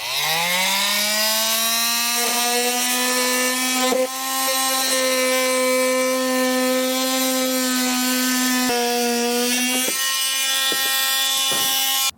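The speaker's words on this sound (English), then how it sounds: "Dremel tool, probably even a jigsaw, whatever you got will work. It's fairly thick plastic, but we'll get this opening created here." A Dremel rotary tool cutting an opening through fairly thick plastic, likely a bumper fascia, while fitting an etrailer invisible base plate kit on a 2021 Jeep Wrangler; a steady, loud, high whine runs continuously for about twelve seconds, dipping briefly near the end.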